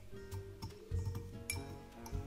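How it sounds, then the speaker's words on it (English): Sugar cubes are muddled with Peychaud's aromatic bitters and orange bitters in a glass for a Sazerac cocktail, giving several soft clinks and taps of the muddler against glass at an uneven pace. "we're gonna muddle two sugar cubes with two dashes of Peychaud's aromatic bitters"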